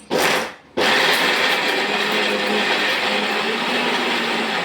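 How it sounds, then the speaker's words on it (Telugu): A mixer grinder blends mint chutney in its jar, a loud continuous whirring grind that stops briefly after a short first burst and then resumes steadily to the end, with no talking. "మిక్సీ జార్కి తీసుకోవాలి"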